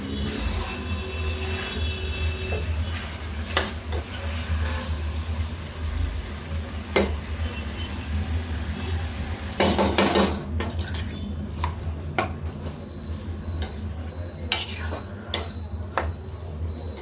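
Chicken curry pieces simmering and being stirred in oil, with steady close sizzling under repeated metal spoon scrapes and clinks against the pan.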